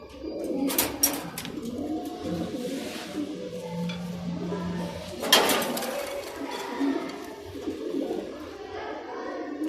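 Alexandrian pigeons kept for sale, several birds cooing in low repeated murmurs close by, with rustling, a few sharp clatters and someone talking throughout.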